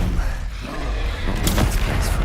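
An Incendio fire spell cast in Hogwarts Legacy, heard as a loud whooshing burst with a heavy low boom that flares and crackles over about a second amid combat noise.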